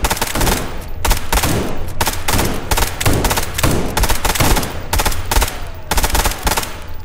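Rapid automatic gunfire from the video game SCP: 5k, loud, dense bursts of shots with brief gaps between volleys, filling the whole stretch with no talk.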